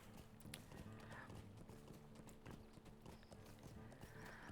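Horse hooves clip-clop steadily in the fantasy game LOTRO, with an occasional whinny, set against game music and a background hum; the hoofbeats sit fairly close and keep up a loose rhythm throughout.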